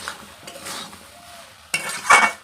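A spatula stirs and sautés young pumpkin, Malabar spinach and local potatoes in a pan, with soft scraping strokes that build to a louder burst of stirring and clatter near the end.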